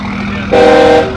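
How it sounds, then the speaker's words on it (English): A loud train horn blasts for about half a second over a steady low rumble, sounding close by. "And that train horn."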